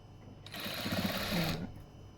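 A sewing machine stitches a hem with piping cloth in one quick burst of rapid mechanical whirring, lasting about a second, close and clear.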